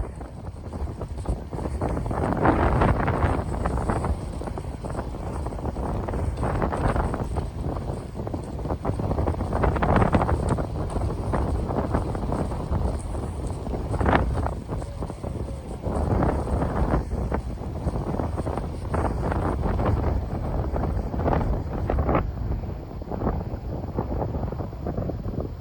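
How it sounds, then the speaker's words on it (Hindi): Strong wind blows across the Rathoa Haryam cable bridge, making a loud, continuous roaring rush and buffeting on the microphone throughout, with no break in the gusts. "इतनी तेज हवा है कि ऐसा जोर लाई के अगे जाना पैना पे।"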